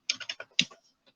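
A computer keyboard clatters as code is typed, five quick close keystrokes in a burst followed by a final isolated tap, crisp and alone.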